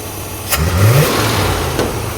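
A car engine runs steadily close by, rising briefly into a rev in the middle of the short stretch before settling back to a rough idle, with no voices over it.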